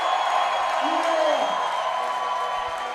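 Crowd noise at the finals of a bouldering competition, the Bloc Shop Open 2018, in a loud indoor gym: a continuous roar of cheering and whooping, with a commentator talking over it throughout.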